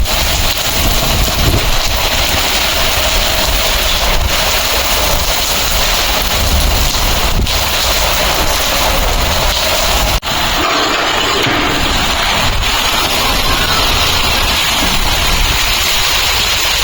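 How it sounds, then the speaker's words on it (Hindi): Heavy rain in the mountains roars in a steady, dense hiss that fills the whole stretch without letup, loud and close. "यहाँ पूरी बारिश ही बारिश है।"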